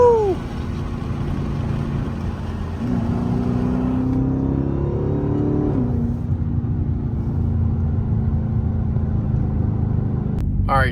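A loud Chrysler 300S drives on backroads, its engine rumbling deep and steady as it revs through gear changes, with the pitch climbing and dropping over several seconds.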